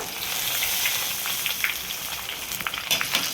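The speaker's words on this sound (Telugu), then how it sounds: "ఇప్పుడు అటుకులు వేసుకోవాలి. కొన్ని వేసుకుంటూ వేయించుకోవాలన్నమాట." Steady crackling sizzle of poha (flattened rice) frying in hot oil for chivda, with sharper pops and rustles toward the end; no voices.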